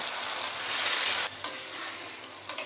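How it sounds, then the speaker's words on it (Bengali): Marinated chicken frying with onions in a pan for a chicken pulao, stirred and turned with a spatula: a steady, close sizzle broken by a few sharp scrapes, with no talking. "আমি ভালোভাবে চিকেনটা পেঁয়াজের সাথে কষে নেব।"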